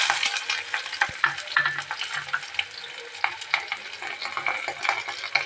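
Onion and curry leaves hit hot oil with popped mustard seeds and urad dal in a kadai, giving a dense, loud crackling sizzle with spatula scrapes throughout and no voices.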